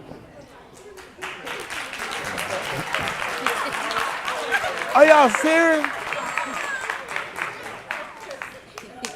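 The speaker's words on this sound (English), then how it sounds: "I heard the grandmama started clapping." A church congregation claps during a sermon, scattered hand claps building into a loose burst under a preacher's voice, with crowd reactions and cheering mixed in.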